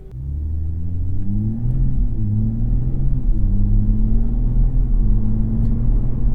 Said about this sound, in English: As you can hear, getting away from that stoplight in normal mode, much quieter operation.